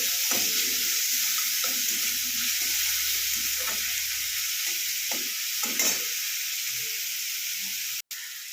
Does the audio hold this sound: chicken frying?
yes